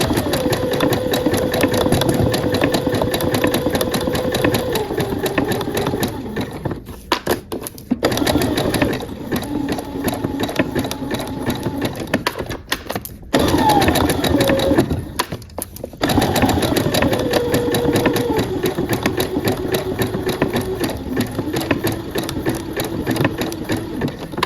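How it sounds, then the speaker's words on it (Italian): A sewing machine stitches a fabric circle in long humming runs that shift in speed, with short pauses between runs where the motor stops. No talking. "faccio scendere l'ago qui sulla base del guscio, basso il piedino, e adesso fate il punto piano piano"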